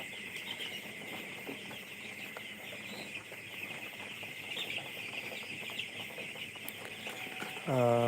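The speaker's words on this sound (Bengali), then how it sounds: "এ হচ্ছে আমার মুরগিগুলো এই মুরগিগুলো হচ্ছে প্রপিটের সুপার প্রপিটার সুপারের মুরগি বাচ্চা" Eight-day-old Super Prophet chicks chirp in a steady, busy chorus close by, thin high peeps overlapping continuously, with a louder burst of sound at the very end.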